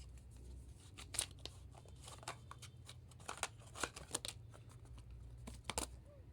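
Tarot cards being cut and handled, soft scattered riffles, taps and papery crackles heard quietly at close range over a low background hum, with no talking.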